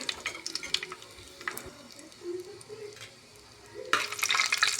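Whole spices frying in oil for veg pulao: cloves, black peppercorns, cinnamon and bay leaves. A soft crackling sizzle with scattered spatula clicks fades, then swells into a louder hiss near the end.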